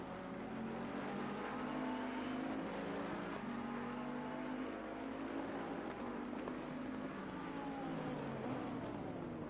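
Several GT race cars, including a Bentley and a Ferrari, roar around Donington Park in Assetto Corsa Competizione, engine drone loud and continuous with shifting pitch as cars pass and rev.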